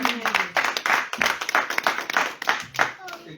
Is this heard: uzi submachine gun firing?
no